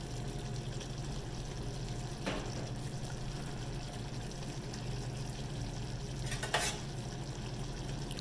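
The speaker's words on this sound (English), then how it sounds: "I'm going to stir this up nice, let it cook for another couple minutes" A pot of chicken and sausage étouffée is stirred as it cooks, giving a quiet, steady low simmer with a couple of brief scraping clatters from the spoon.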